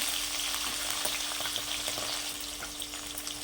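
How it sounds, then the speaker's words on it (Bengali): Tangra fish fry in mustard oil with a continuous close, even sizzle and fine popping crackle, no voices, holding steady for a few seconds. "আর একটু ভেজে নেওয়া যায়, উল্টে দিই।"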